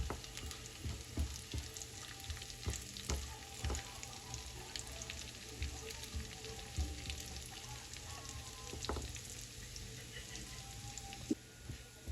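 Garlic with whole chili fries while toasting in a pan, giving a soft, steady sizzle with scattered crackles and pops throughout, heard at a quiet level.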